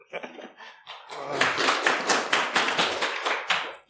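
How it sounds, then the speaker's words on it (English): Audience applause at a security technology conference talk, a dense wash of clapping hands that builds from a few scattered claps into sustained applause. "Please give him a big round of applause."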